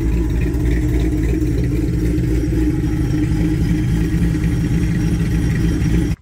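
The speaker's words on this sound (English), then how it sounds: "So she made it through some wide open throttle rips." A supercharged Dodge Challenger with a 5.7 HEMI and Tomahawk cam roars at wide open throttle, a loud, steady, heavy rumble that holds for about six seconds before cutting off abruptly.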